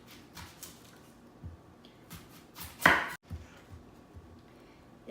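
A knife cuts through the end of an onion in a home kitchen: one sharp chop with a brief crunchy thud through the bulb, quick and close, with a few softer knocks before it.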